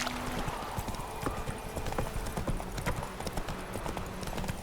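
Horse hooves clip-clopping steadily in The Witcher 3 video game, a brisk, regular trotting rhythm of sharp hoof strikes close up over a soft ambient game background.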